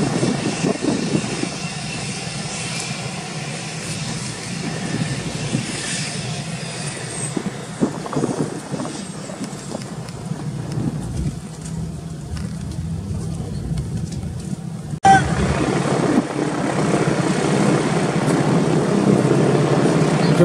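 An aircraft flying over a Battle of Britain anniversary ceremony in Delta, British Columbia, with a sustained engine drone that swells and fades against outdoor ambience. A louder passage follows near the end, and no voices are heard.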